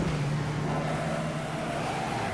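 Car engine from the Midnight Club 3: Dub Edition racing game as the car spins out, a steady loud droning hum with a sustained low engine tone throughout, no voices.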